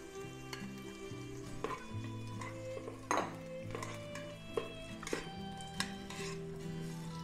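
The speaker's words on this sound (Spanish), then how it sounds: "Y lo que estamos haciendo es un sofrito con esto, con todo esto." An onion and tomato sofrito for lentil soup sizzles softly in an electric rice cooker, with scattered utensil scrapes and clinks against the pot over a quiet, steady background.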